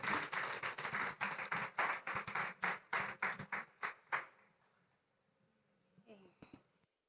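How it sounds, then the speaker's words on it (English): Audience applause greeting a speaker at a sustainable finance summit, a burst of close, sharp claps for about four seconds that stops abruptly, then quiet room tone with a faint brief voice. "Please, let's make welcome with a round of applause, Tosin Leye Odeyemi."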